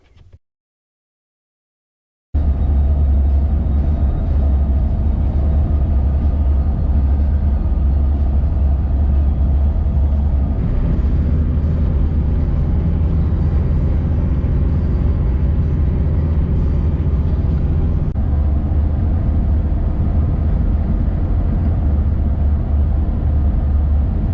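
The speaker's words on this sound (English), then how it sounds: "just driving along the Pacific Coast Way" A Toyota 70 Series with a six-speed automatic conversion cruises along the Pacific Coast Way at about 110 km/h, giving a steady, loud low drone of engine and road noise that starts after a short silence and continues unbroken, with no talk.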